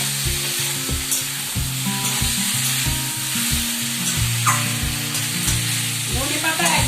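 Taro pieces fry in hot oil alongside whole ginger, cumin and green chili, a loud continuous sizzle with regular scraping stirs from a spatula throughout.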